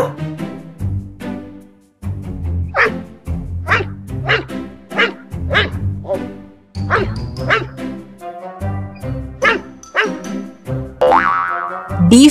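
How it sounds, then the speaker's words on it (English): A dog barks repeatedly in a rhythmic run of loud, close barks and yips, mixed with bouncy cartoon effects in a children's alphabet lesson. "D for dog."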